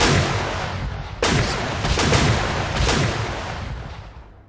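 Naval gunfire hitting a destroyer in the strategy game Panzer Corps 2: heavy booming cannon blasts and a rumbling volley of several shots, loud and dense, fading into a long reverberant tail.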